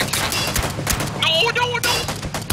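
Gunfire in the battle royale game PUBG, several sharp shots in quick succession amid game noise, with a short tonal in-game effect partway through; no talking.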